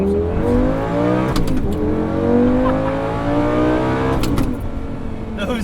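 A manual Lamborghini Gallardo pulls away and accelerates hard, its engine note climbing in rising sweeps with a brief shift break, loud and close throughout.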